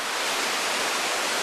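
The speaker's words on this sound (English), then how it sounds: "So the water is smashing against the bridge." Broadband roar of a flooded creek after a hurricane, high water rushing and smashing against a bridge, loud and continuous with no voices.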